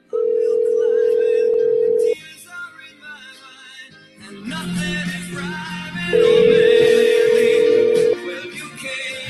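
Phone call ringing out in the video game Detroit, two long steady ringback tones a few seconds apart with quiet game sound and a voice between them.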